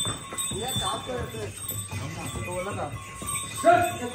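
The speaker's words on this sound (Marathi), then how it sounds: "आमची फॅमिली चाललेली आहे सगळी घोड्यावर" Horses carrying a family along a mountain path toward Ardhkuwari on the Vaishno Devi route clop faintly, with light jingling bells, beneath steady nearby talking.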